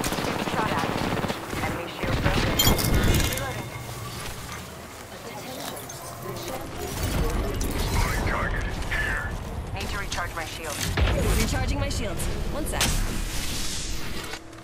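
Near-constant weapon fire and clattering effects during an Apex Legends ranked match, with loud bursts and dense action sounds, while voices talk over them throughout.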